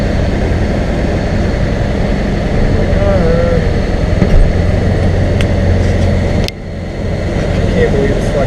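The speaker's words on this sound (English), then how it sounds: "Sitting in the tow truck." A tow truck's engine drones loudly and steadily from inside the cab as it idles and rolls, a constant low rumble with a brief clunk partway through.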